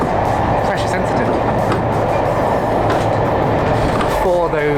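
A heritage train hauled by two Class 47 diesel locomotives, 47826 and 47813, rumbles and rattles steadily from on board, a loud continuous rolling noise with someone talking over it.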